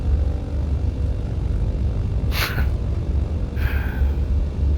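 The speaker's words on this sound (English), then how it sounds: "why did the props sound so weird when I was landing?" Steady low propeller-engine drone with a rumbling roar throughout as an aircraft lands in Microsoft Flight Simulator, plus two brief airy whooshes over it; no speech.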